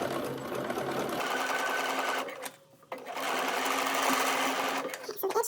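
A sewing machine edge-stitches close to the seam along a blouse neckline, running steadily at close range, pausing briefly midway before resuming its even mechanical whir.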